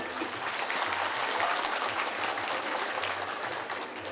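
A crowd applauds steadily at a 100th-anniversary ceremony of an association, dense sustained clapping filling the hall at an even level from start to finish.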